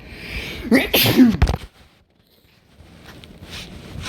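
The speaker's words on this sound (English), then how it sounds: "I feel a sneeze coming." A single loud sneeze with a sharp inhale before it, followed by a couple of seconds of near silence and then faint background noise.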